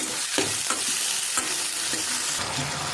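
Chopped tomatoes added to browned onions in a hot pan, a loud continuous sizzle with scraping stirs of a spoon at a few points, close up and with no talking.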